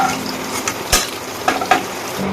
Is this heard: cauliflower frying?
yes